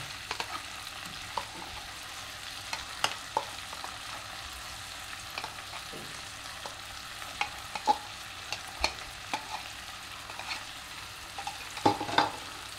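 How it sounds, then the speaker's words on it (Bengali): Quiet sizzling of shrimp and spices in a wok with repeated sharp scrapes and clinks of a spatula stirring, irregular taps scattered across the sizzle. "মাছের সাথে কষে নেব"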